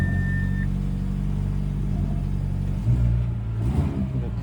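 A 2019 Mazda CX-5 Sport engine runs with a rough, low rumble from a damaged exhaust, holding a steady drone before revving up louder near the end, close by with no talk.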